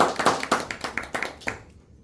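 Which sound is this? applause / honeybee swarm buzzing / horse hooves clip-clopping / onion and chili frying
applause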